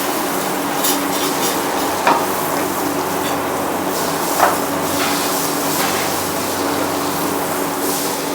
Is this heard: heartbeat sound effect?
no